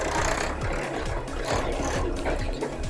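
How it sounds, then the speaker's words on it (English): A steady low engine rumble runs throughout, with a continuous chugging drone and faint rhythmic knocks, like a tractor idling nearby. "The tractor sound is the only sound you hear in all these places."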